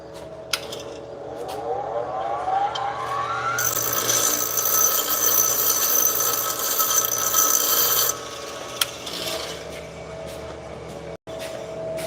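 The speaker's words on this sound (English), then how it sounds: "I'm gonna come over here and use the grinder to clean this thing up" A bench grinder cleans up a small 1/4-inch round metal punch, rising to a loud, steady grinding rasp for several seconds in the middle of the clip before dropping back to a lower motor hum.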